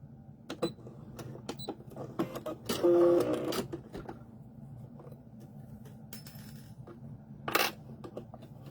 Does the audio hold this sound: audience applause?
no